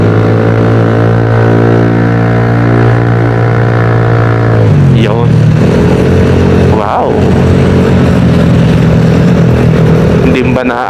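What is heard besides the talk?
loud motorcycle with aftermarket exhaust pipe revving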